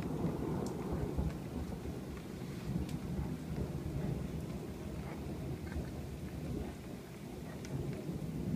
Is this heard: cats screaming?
no